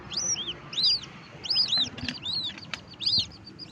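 A rescued black chick separated from its parents, found in a backyard, flaps its wings in short repeated bursts, interleaved with high chirps, close and fairly loud against a quiet background.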